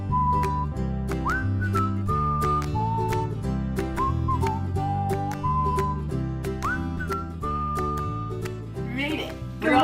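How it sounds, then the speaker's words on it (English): A whistled melody of sustained, sliding notes rides over a steady rhythmic beat with plucked accompaniment, clear and close throughout. "You're going to watch this video right after the whistling."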